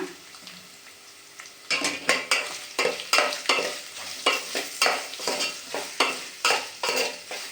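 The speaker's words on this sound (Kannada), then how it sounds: "ಇವಾಗ ಒಂದು 3 ಆನಿಯನ್ ಕಟ್ ಮಾಡ್ಕೊಂಡಿದ್ದೆ, ಅದನ್ನು ಹಾಕೊಂಡ್ಬಿಟ್ಟು ಫ್ರೈ ಮಾಡ್ಕೊಳ್ಳೋಣ." Three chopped onions fry in a pan, a soft sizzle giving way to rhythmic, repeated scraping strokes of a spatula stirring against the pan, close and fairly loud, with no talking.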